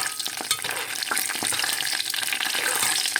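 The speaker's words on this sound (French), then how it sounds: "je mets l'huile vraiment froide et je laisse frire moins d'1 minute, hein, le temps que ça colore" Almonds frying in cold-started oil, for a sweet lham lahlou dish, give a steady close sizzle with crackles, joined by occasional stirring scrapes throughout, with no voices.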